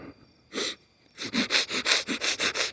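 A voice imitating the heavy, mask-filtered breathing of the villain Bane, one sharp rasping breath and then a steady run of about eight loud, rhythmic breaths up close.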